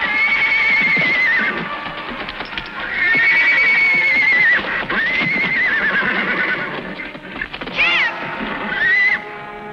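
A wild mustang stallion neighs repeatedly in loud, shrill whinnies with rising and falling pitch, separated by short gaps, with hoofbeats clattering underneath throughout.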